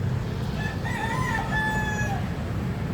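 A rooster crows once at mid distance over a rooftop garden, its long drawn-out call rising and then trailing off above a steady background rumble.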